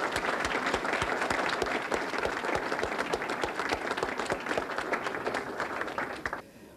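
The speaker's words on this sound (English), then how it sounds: "Let's give them all a round of applause." A crowd at a public ceremony claps warmly for two public servants, a loud dense patter with crisp individual claps standing out, sustained for several seconds before thinning at the end.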